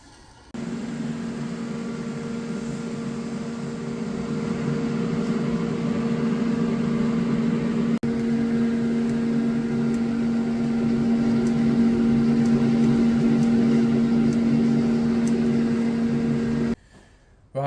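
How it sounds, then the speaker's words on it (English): Steady welding of a BMW fixed differential spool, a constant loud electrical hum and buzz sustained for about sixteen seconds before cutting off abruptly. "you've just seen how we weld them, how we weld these fixed spools"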